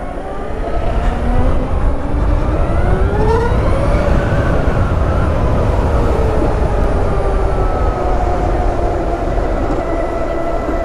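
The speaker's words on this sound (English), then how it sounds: "there's so much difference in the noise that this bike can make" A 2022 LiveWire One electric motorbike riding through London gives a loud, continuous whine that rises and falls in pitch with speed, mixed with steady road and wind rush.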